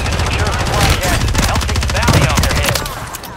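Gunfire in a Plunder King video game comes as loud, rapid bursts of automatic shots, dense and near, over a steady clatter, with voices speaking through the shooting.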